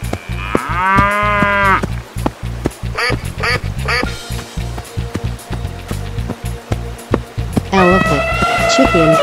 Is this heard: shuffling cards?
no